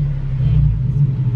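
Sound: Nissan 370z launching on a test drive

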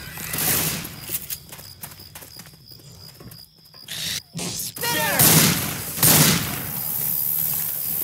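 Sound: gunfire in video game Left 4 Dead 2

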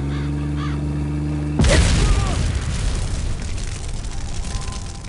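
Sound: car exploding from gunfire in Marine Sharpshooter video game

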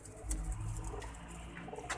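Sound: pigeon cooing

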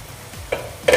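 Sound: stirring sprouted moth beans (matki) sizzling in pan

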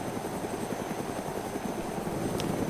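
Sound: helicopter flying in DayZ video game

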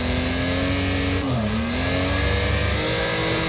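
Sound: race cars in the video game Wreckfest

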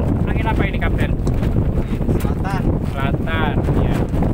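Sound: wind blowing at sea on a fishing boat

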